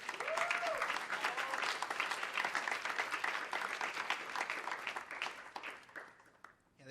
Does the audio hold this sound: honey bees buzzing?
no